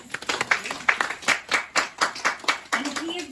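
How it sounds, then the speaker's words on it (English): A small audience at a guest seminar in a Melbourne, Florida residence claps to welcome a rabbi, with distinct, uneven hand claps close by and a voice speaking briefly near the end. "Please give him a warm round of applause."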